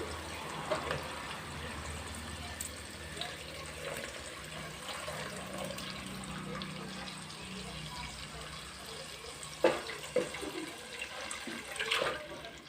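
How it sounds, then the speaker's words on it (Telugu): Tamarind fish curry broth is poured into a pot, making a steady, fairly soft gushing flow of liquid with a couple of louder splashes near the end. "మనము చేపలు కలిపి పులుసులాగా పెట్టుకున్నాం కదా అది ఇందులో పోసేద్దాము"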